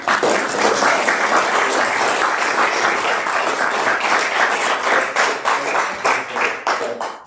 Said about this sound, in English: can we just have a round of applause for everyone who helped make this happen?